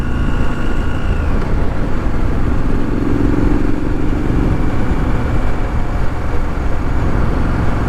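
A 2020 Triumph Street Scrambler motorcycle is ridden on the road, its engine droning steadily and loudly throughout with heavy wind rush and no pauses.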